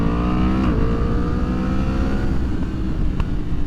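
A 2023 Yamaha MT-10 motorcycle fitted with a Leo Vince decat exhaust accelerates with a loud, steady engine roar that climbs in pitch and shifts once, with no talking.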